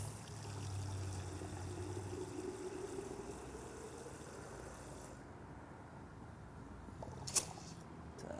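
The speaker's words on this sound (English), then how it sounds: "I'm going to go ahead and add water to this top line on the reservoir." Water is poured into the reservoir of an air-powered foam sudsing gun, a soft steady trickling stream that stops partway through, followed by a brief sharp click.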